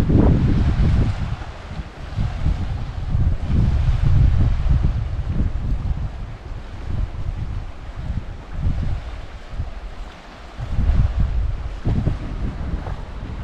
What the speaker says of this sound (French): il y a le vent qui commence un petit peu à se lever